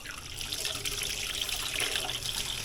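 Turkey necks rinsed under a running kitchen tap, a steady trickle and splash of water over the meat in a sink, soft and continuous.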